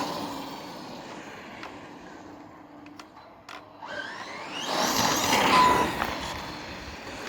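A Tekno EB48.4 RC buggy runs at about quarter throttle outdoors in a cramped space, its faint motor whine and tire noise growing louder and nearer toward the end.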